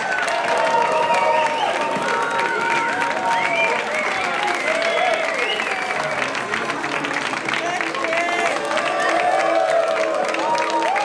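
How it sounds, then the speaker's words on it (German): A live studio audience breaks into loud, sustained applause and cheering for the points winner of a contest, with whoops and shouting voices mixed into the dense clapping throughout. "Applaus!"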